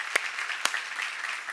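A church congregation at a seminar claps in a steady wash of applause, with two sharp, louder claps standing out near the start. No clear talk is heard.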